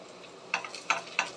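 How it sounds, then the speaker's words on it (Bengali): Vegetables for pav bhaji frying in a pan, a faint sizzle broken by three sharp scraping stirs at regular intervals, close and with no voices. "তারপরে সব একসাথে ভেজে নেব।"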